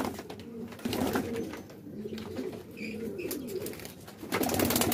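Pigeons coo softly in a breeder's loft, low repeated calls close by with a faint high chirp mixed in over steady background noise.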